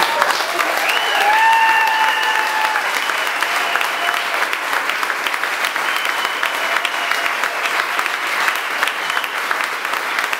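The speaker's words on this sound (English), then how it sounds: "One big round of applause for Rosie one more time" An audience at a medal ceremony for Olympic champion Rosie MacLennan at Canada Olympic House applauds for a long stretch, dense and even, with a few whoops and cheers early on.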